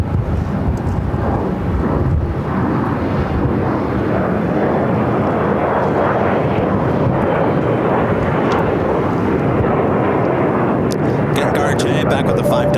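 An American Airlines A320 takes off from runway 7 left at Phoenix airport, a loud, sustained broadband jet roar rumbling steadily throughout with a faint voice in the background.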